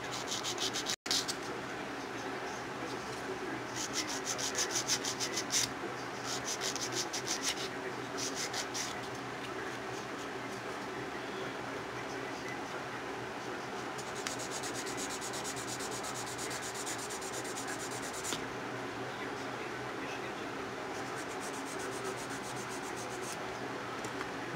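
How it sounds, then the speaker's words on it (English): Steady abrasive rubbing of a file across an acrylic nail while squaring it off, a close, continuous scratchy rasp in repeated strokes that runs the whole stretch, with brief pauses and one sharp knock near the start. "Got some hefty filing to do here,"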